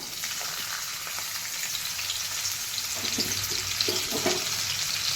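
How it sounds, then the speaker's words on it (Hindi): Cut green chillies fry in hot oil, giving a constant sizzle with occasional stirring clicks and knocks that grow a little busier toward the end. "तेल गरम हो गला। एबे हमें कट्टा कंचा लंका पकेबा।"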